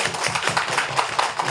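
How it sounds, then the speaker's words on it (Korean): A church congregation claps together during a Sunday morning service, steady dense applause filling the room at close range, loud and continuous throughout. "자, 우리 박수 한번 하겠습니다."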